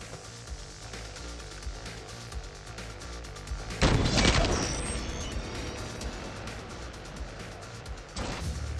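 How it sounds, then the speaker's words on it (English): Gunfire in the video game Call of Duty: Advanced Warfare during a competitive 2v2 match, a loud sharp report followed by a decaying rumble, with a second burst near the end over continuous game noise. "it's King J Huffy hitting the 1-bullet collateral in a 2v2 to win the round."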